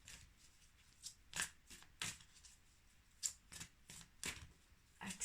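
Fairy oracle cards are shuffled by hand, soft papery riffles and slaps in irregular bursts, close and quiet, with short pauses between handfuls.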